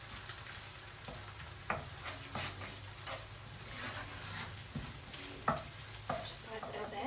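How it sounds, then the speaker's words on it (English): Eggs, rice and plenty of butter are stir-fried in a hot pan with salt, pepper and green onion, giving a steady close sizzle broken by repeated scraping stir strokes and occasional sharp clacks of the utensil. "to turn my pan back on and stir fry everything really quickly"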